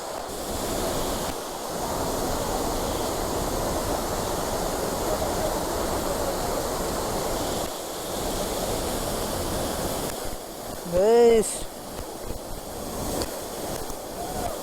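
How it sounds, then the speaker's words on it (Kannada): A rushing stream flows on a rainy day in Chikkamagaluru, a steady, full roar of water that runs without a break, with one brief, sharper rising tone near the end. "ನೋಡಿ ನೋಡಿ ನೀರು, ವಾವ್ ಎಷ್ಟು ಫ್ರೀಸ್ ಆಗೋ ಥರ ಹೋಗ್ತೈತೆ ನೀರು"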